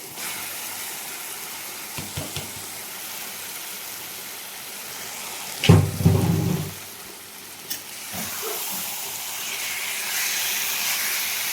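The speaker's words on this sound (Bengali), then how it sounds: "তেল ছেড়ে দিয়েছে, দিয়ে দিলাম ম্যারিনেট করা চিকেন।" Marinated chicken dropped into hot oil, giving a steady sizzling hiss that surges loudly mid-way as the pieces hit the pan, then settles into continuous frying.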